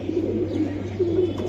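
A Pakistani teddy pigeon gives low, rolling coos, two or three soft throaty phrases close by over a faint steady background hum.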